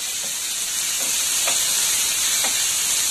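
Vegetables such as carrots and peas sizzling in a pan for Singapuri spring rolls, a loud continuous hiss broken by a few soft stirring taps, with no talk.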